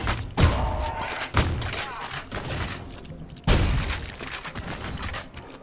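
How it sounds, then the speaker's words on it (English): Grenade explosions in Ion Fury: several loud, sharp blasts spaced about a second apart, each with a heavy low thud and a brief rumbling decay, close and punchy, with no talking. "I like that little grenade."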